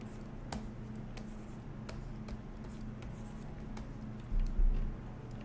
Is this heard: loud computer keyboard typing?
yes